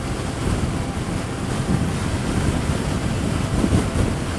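Steady roaring crosswind buffets the microphone while riding a 2013 Suzuki Hayabusa motorcycle, a continuous loud low rumble with surging gusts and no speech.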